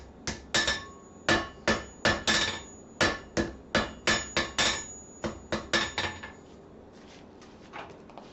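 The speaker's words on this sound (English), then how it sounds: "So that I can get my shank in under that hammer." Blacksmith's hammer striking a shank, a quick series of loud, ringing metallic blows in uneven clusters, close and clear, fading to lighter taps at the end.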